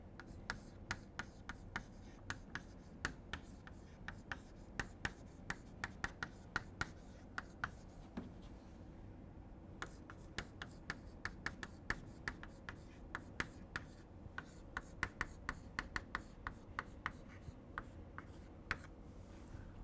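A pen writes equations by hand on paper in quick, sharp ticking strokes and scratches, close and quiet, with a brief pause midway and no talking.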